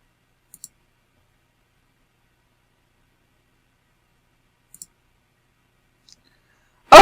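A computer mouse clicks to save a landing page, leaving a few faint, isolated clicks spread across near silence, followed by a short louder burst at the very end.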